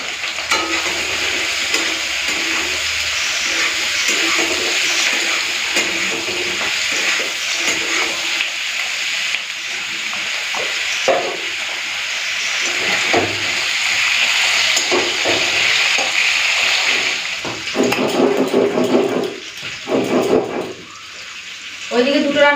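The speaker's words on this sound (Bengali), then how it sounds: "নুন হলুদটা দিতে ভেজে নিই" Rohu fish pieces frying with salt and turmeric in a pan, a loud steady sizzle running throughout with occasional clatter and speech over it near the end.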